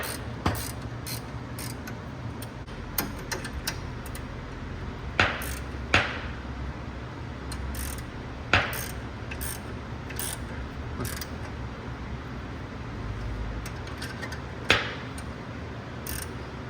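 Bracket bolts being tightened on a Challenger widebody during an LED wheel badge installation: repeated quick ratchet clicks in short runs, with a few sharper metallic knocks, close and moderately loud over a low background hum.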